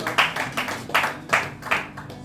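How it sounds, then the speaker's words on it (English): Scattered applause from a small group at a cowpea farming talk, about six bursts of clapping rising and falling in quick succession, fairly close. "Round of applause for him"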